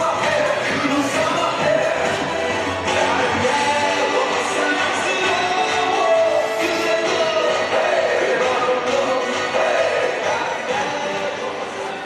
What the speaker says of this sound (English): The DJ whipping the crowd into a frenzy here at Campbelltown Sports Stadium.